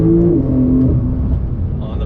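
A 2021 Porsche 911 Turbo S pulls hard on throttle in second gear, its engine note rising steadily in a loud, close roar from inside the cabin while a voice talks over it.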